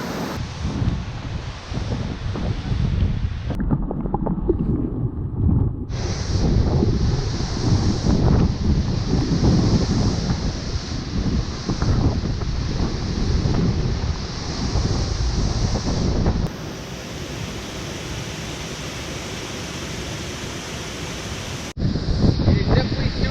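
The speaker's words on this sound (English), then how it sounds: "It is definitely super windy here." Strong wind at Looking Glass Falls buffets the microphone as a loud, continuous roaring rush that swells and fades in gusts, close and dominant throughout.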